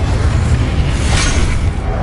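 Fiery blast from the Incendio spell in Hogwarts Legacy, a dense, loud roaring burst with heavy low rumble that holds steady for about two seconds.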